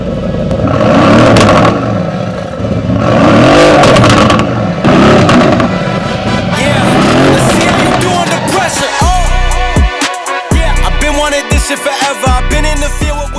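A Mercedes-AMG GT sports car engine revving hard in repeated loud bursts, then settling into a crackling, popping burble from the exhaust, close by with no speech.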